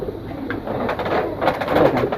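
Pigeons coo in soft, low, murmuring calls amid steady background noise, brief and without talk.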